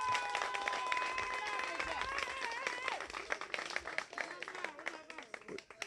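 A crowd at a public gathering applauds, scattered hand claps growing sharper and more distinct over several seconds, mixed with voices, cheers and whistling tones at the start.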